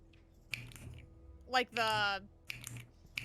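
Computer keyboard typing gives scattered sharp clicks in short bursts at close range, with a brief voiced, wavering sound rising in the middle.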